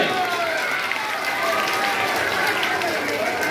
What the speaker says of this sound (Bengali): আবার করতালি